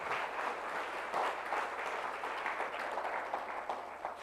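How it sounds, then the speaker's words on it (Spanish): A church congregation applauds steadily in a dense, continuous patter of clapping, fairly distant and soft, with no clear voices over it. "Denle un aplauso fuerte a la sangre de Cristo."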